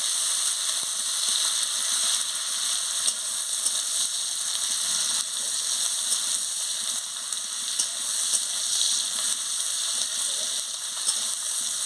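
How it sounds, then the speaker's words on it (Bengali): Chopped onions frying in hot oil for a turnip, potato and plantain curry, giving a steady, dense, bright sizzle that holds at an even level throughout with no talking. "তেল গরম হয়ে গেছে, আমি পেঁয়াজ কুচিটা দিয়ে দিচ্ছি। দিয়ে ভালো করে ভেজে নিচ্ছি।"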